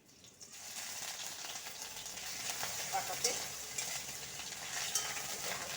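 Ginger and garlic paste, ground on a stone slab, sizzles in a pan after fried onions while lentil dal is being cooked; a steady close frying hiss with scattered stirring scrapes, and a single word spoken at the start.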